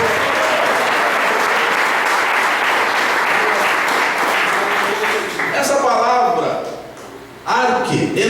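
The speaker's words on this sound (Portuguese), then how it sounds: "Vamos dar um aplauso ao nome do verbo aqui, Jesus?" A church congregation applauding in a lively worship service, loud sustained clapping from many people for several seconds before a preacher's amplified voice cuts in over it.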